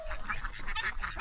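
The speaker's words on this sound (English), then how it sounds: "Geese are mean." Geese honk repeatedly nearby, a cluster of harsh overlapping calls in quick succession.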